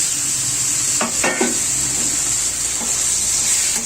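Tomatoes tipped into a hot frying pan of fenugreek and fish curry, giving a steady bright sizzle with a few soft scraping stirs of a spoon against the pan, close and continuous.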